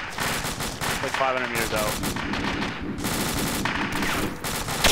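Machine gun fire in the military game Arma 2 hammers in sustained rapid bursts, close and loud, while someone talks over the shooting.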